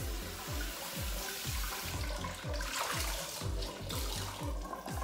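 Warm water runs steadily from a kitchen tap to dampen a tea towel for covering homemade bread dough, a continuous close splashing rush with no talking.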